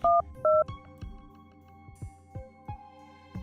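A telephone plays two clear dialing tones, then a run of soft clicks and faint beeps as a mother calls a college. The sound is quiet and close, with no voices.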